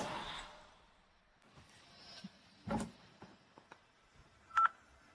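A telephone is dialed in a quiet room: scattered keypad tones and handling clicks over several seconds, with one clear, louder tone near the end.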